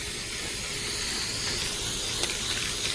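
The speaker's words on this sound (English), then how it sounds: "you want to do like long strokes of spray so you get that more of a professional spray job" A steady, continuous hiss of spray paint from an aerosol can, laid down in long strokes while coating the top side of a ceiling fan.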